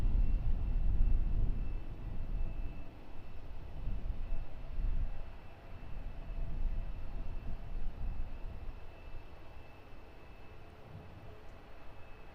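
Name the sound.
Ryanair 737 MAX 8 jet aircraft at Luton Airport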